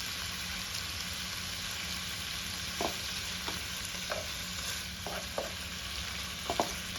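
Steak pieces browning in a hot skillet, a soft steady sizzle with occasional light taps and spatula clicks scattered through it.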